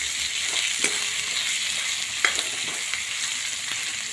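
Capsicum, chili, cabbage and tomato stir-frying in a hot pan with a steady close sizzle, broken by a few sharp scraping knocks from a spoon stirring, with no voices.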